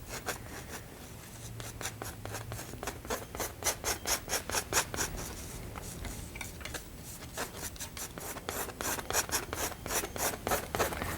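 A brush lays overlapping strokes of paint onto a canvas, giving a soft, rhythmic scrubbing rasp repeated steadily at close range with no talking.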